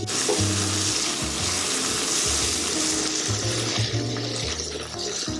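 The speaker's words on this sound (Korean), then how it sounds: "다져놓은 양파, 버섯 볶아주도록 하겠습니다" Chopped onion and mushrooms sauté in a generous pour of olive oil, giving a steady, dense sizzle and crackle that stays loud and continuous throughout.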